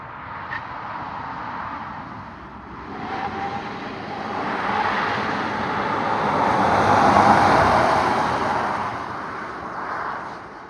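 An ID Buzz van runs at full throttle out of a corner on a dusty track, giving a loud, steady road and drive roar that swells and fades, with a faint high whine.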